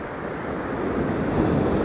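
Rough sea surf on Hornsea beach rushes and roars continuously nearby, swelling slightly louder toward the end, with wind blowing across the mic.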